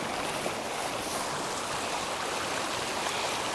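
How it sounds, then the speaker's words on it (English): Creek water rushing at the third Agua Caliente crossing on the Pacific Crest Trail, a steady broadband wash that stays close and loud with no break for the whole stretch, with no voices over it. "Creek crossing number 3 of the Agua Caliente."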